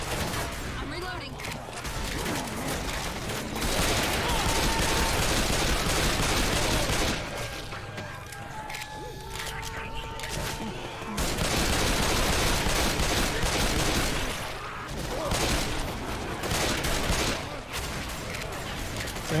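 Sustained Left 4 Dead gunfire roars in long, dense automatic volleys, briefly easing mid-fight before resuming loudly, with players chatting beneath the shooting.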